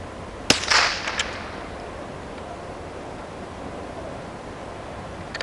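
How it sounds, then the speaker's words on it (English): A single sharp gunshot cracks out from a .22 rifle firing CCI Blazer .22 Long Rifle ammunition, followed by a brief echoing tail, then quiet outdoor background noise. "We got 5 more rounds of CCI Blazer."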